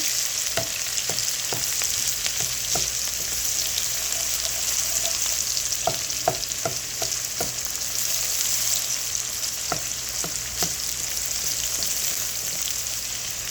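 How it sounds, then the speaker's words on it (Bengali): About a cup of onions sizzling in a pan for pulao, a dense steady crackle close up with scattered sharp clicks of a spatula stirring, no voices. "পেঁয়াজটাকে ভালো করে ভেজে নিচ্ছি"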